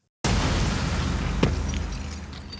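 A loud, sustained rumbling blast starts abruptly and holds steady, with a sharper crack about a second in, then stays heavy and booming to the end.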